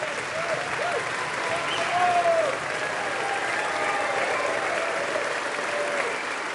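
A large audience in the US Congress chamber applauds while standing, a dense, sustained wash of clapping that swells slightly midway, with faint voices mixed into the crowd.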